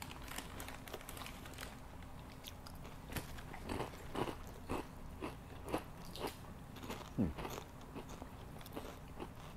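Close, crisp crunching of ketchup-flavored Ruffles potato chips being bitten and chewed, a series of irregular brittle crackles over a quiet background.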